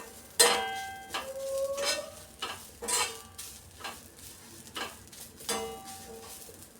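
Grated coconut roasting in a spoonful of coconut oil, a spoon scraping and stirring in repeated strokes about once a second over a soft, quiet sizzle, close and without talk.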